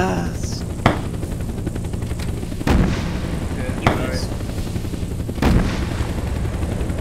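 Rockets and gunfire in the survival game Unturned, four sharp loud blasts spaced a second or two apart over a steady rumbling drone, with faint voices underneath.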